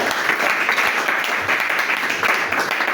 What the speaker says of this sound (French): Acclamons d'abord pour le Seigneur.